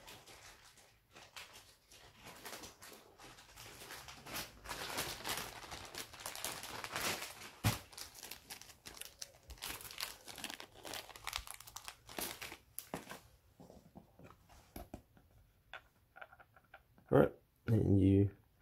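A plastic bag holding small game cubes for the Terraforming Mars board game crinkles and rustles up close. The crackling is busy and uneven, with a few sharper handling noises near the end and faint speech in places.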